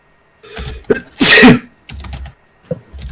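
A single loud sneeze bursts out, close and sharp, amid some brief throat noises and clicks.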